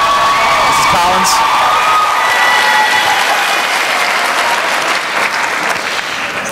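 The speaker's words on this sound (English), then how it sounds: "Round of applause for Mrs. Collins and the choirs again, the vocal students." An audience at the Roseville High School holiday band and choir concert applauds the choir and vocal students, loud dense clapping with scattered cheers and whoops and voices mixed in, fading slightly toward the end.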